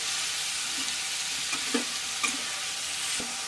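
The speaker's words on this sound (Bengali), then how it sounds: "প্রায় মিনিট খানেক সময় ধরে এটাকে হাই ফ্লেমে আমি ভেজে নিয়েছি" Tomatoes with turmeric and salt frying on a high flame for a sour small-fish curry: a continuous, even sizzle and hiss throughout, with a few soft stirring knocks and scrapes.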